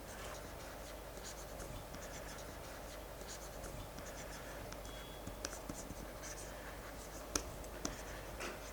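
Chalk or pen writing on a board during a physics lecture, a faint continuous scratching with a few soft taps, heard alone at low level.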